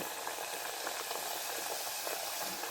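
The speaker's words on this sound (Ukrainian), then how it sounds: "Смажаться вони дуже швидко. Треба дивитись, щоб не підгорали." Khrustyky dough pieces fry three or four at a time in about 300 ml of hot oil in a saucepan, giving a steady, dense crackling sizzle that bubbles on without pause and without talk.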